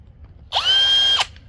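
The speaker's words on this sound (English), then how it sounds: "before I use any type of battery powered driver. Then on low speed setting" Battery-powered driver at a low speed setting removing screws from a hot tub panel: one short, steady, whirring burst with a quick spin-up and stop, close and loud.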